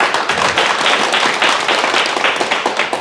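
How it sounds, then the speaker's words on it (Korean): Audience applause at a Korean Buddhist dharma talk, steady dense clapping from a crowd lasting about three seconds, moderately loud and without speech. "박수 한번 치세요."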